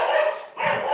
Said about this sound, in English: sorry, doggy's going in the background